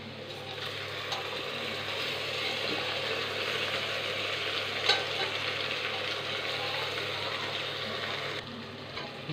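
Onions fry with ginger garlic paste and whole spices in a pan for a mushroom biryani, giving a steady close sizzle with faint stirring scrapes and no talk.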